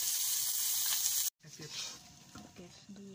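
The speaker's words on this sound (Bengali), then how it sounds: "মাছ ভাজি করছি" Fish sizzles and spits in hot oil in a pan, a steady bright hiss that cuts off abruptly, then softer frying crackle with clinks of stirring and a few faint voice-like sounds.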